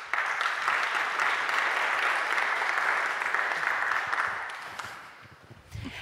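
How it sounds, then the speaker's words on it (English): Sustained applause from a summit audience for a panel, dense and steady for several seconds before thinning out and fading, with a few stray claps and room noise at the end. "Give them an applause"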